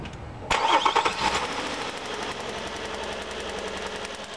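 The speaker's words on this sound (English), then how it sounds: "now we'll start our engine" A car engine cranks and catches with a sudden burst of rapid firing, then settles into a rough, steady running idle, close and fairly loud with no talk.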